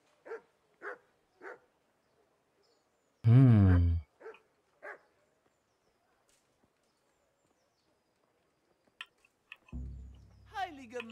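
A dog barks in the medieval role-playing game Kingdom Come Deliverance: a few short yelps, then one loud, close bark, with brief game voices or sounds near the end.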